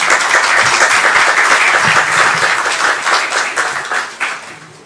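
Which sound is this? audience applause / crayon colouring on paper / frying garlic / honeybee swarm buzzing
audience applause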